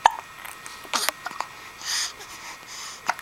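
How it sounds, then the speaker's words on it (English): A child hiccups in short, scattered catches mixed with sniffs and breathy noises, fairly close and at low volume, with no talking. "Do we hate the hiccups?"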